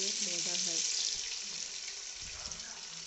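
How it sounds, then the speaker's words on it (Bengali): Onion and tomato frying in a pan make a bright, constant sizzle, with a voice briefly heard at the start and a few low knocks of stirring later on. "পেঁয়াজ আর টমেটো একটু ভাজা ভাজা হয়ে আসলে সব মশলাগুলো দিয়ে দেবো।"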